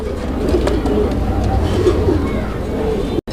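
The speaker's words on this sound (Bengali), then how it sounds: "বন্ধুরা আমরা এই মুহূর্তে দেখতে পাচ্ছি এখানে আরও এক জোড়া কবুতরের কালেকশন রয়েছে" Pigeons kept for sale on a Bangladeshi farm coo in a loud, continuous, throaty chorus close by, with some indistinct voices in the background.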